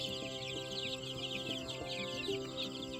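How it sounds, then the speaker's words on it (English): Farm chickens cluck in short, scattered bursts against a constant low background hum, with the birds sounding moderately close but fairly quiet. "Those silly chickens."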